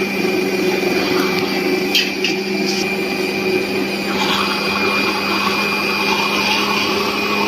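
A steady, loud motor whine of a mixer grinder running continuously with a constant hum while grinding a coconut, tomato and peanut chutney with water added, a few brief clatters near the start.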